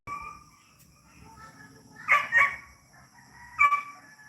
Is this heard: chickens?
yes